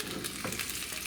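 Onion and tomato fry together in olive oil, a steady close sizzle with crackling pops and a brief stir scrape midway, carrying on without talk.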